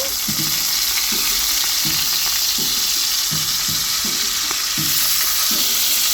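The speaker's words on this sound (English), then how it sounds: "the pot is sizzling hot" Steady, dense sizzling of shrimp frying in hot oil in a pot, loud and continuous, with a faint rhythmic stirring or scraping beneath.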